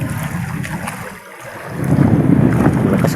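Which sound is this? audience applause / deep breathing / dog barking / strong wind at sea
strong wind at sea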